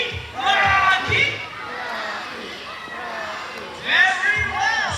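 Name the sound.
boys in the audience cheering for Rocky at a bird show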